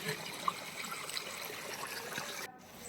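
Water pouring from a large motor pump's pipe into a muddy well being cleaned, a faint, steady rushing wash with a small splash near the start and a brief dip just before the end.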